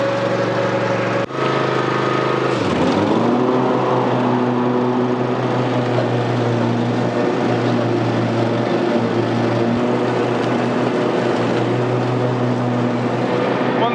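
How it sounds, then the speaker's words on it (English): A Cub Cadet XZ6 zero-turn mower drones loudly while mowing a slope, its close steady engine roar dipping briefly in pitch early on before settling into a constant hum. "That's right, slope mowing."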